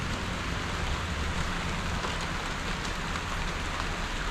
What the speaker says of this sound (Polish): nadal pada deszcz